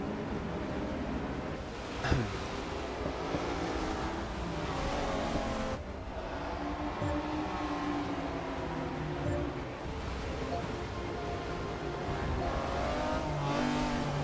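Race cars in a Forza 6 replay at a Rio circuit drone and rev at moderate distance, engine pitch rising and falling as they accelerate through bends, with a continuous blended roar and occasional passing whooshes.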